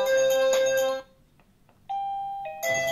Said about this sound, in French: ça sonne d'abord sur ma tablette, puis après sur le carillon